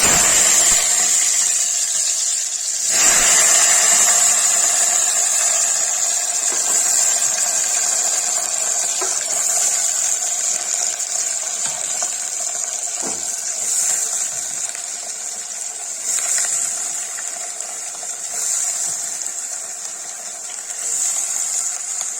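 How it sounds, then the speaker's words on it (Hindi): Potatoes and peas sizzle in hot oil in a pan, a loud, steady hiss and crackle that flares sharply near the start as they hit the oil, then settles into continuous frying close by. "ये तेल गरम हो गया, इसमें डालेंगे आलू मटर"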